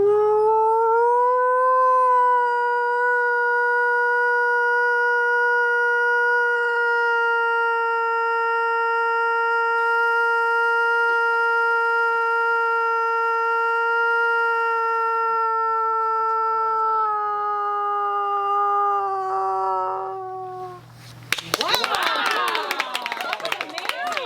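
A person imitates a wolf howl at a Voyageurs Wolf Project outdoor gathering: one long, loud, clear tone that rises, holds steady for nearly twenty seconds, then falls away before clapping and applause break out.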